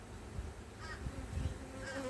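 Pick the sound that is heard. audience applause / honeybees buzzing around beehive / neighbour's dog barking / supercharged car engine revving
honeybees buzzing around beehive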